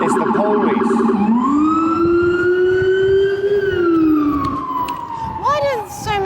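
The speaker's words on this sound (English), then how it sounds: "there's a siren coming past, so that'll be fun" Police siren passing along a New York street, a loud wailing sweep that rises and holds before falling away, with rapid yelping bursts at the end, over city traffic noise.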